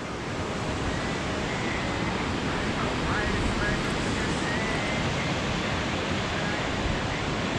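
A river fed from the Everest side, heard from a footbridge on a Nepal trekking route, gives off a loud, steady broadband rush of flowing water that never lets up.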